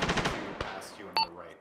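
Arma 3 gunfire crackles in a quick burst of several shots followed by a single sharper report, faint and somewhat distant, with a brief radio-like tone and murmur underneath.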